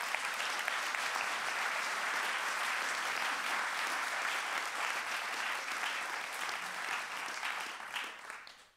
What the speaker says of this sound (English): Those were 300 people applauding your speech.